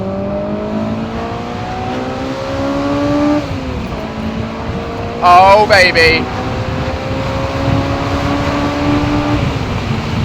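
Honda S2000 fitted with an HKS Hi Power exhaust, revving up and down while driving, with engine notes that rise and fall and a sharp burst of throttle midway, loud and close inside the car. A voice briefly speaks over it.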